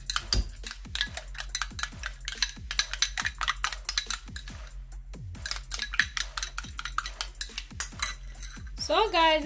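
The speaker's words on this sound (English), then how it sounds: "So I'm just gonna mix them together." A utensil stirs an oil mixture in a small container, making rapid rhythmic metallic clinks and scrapes, close and clear with no talk.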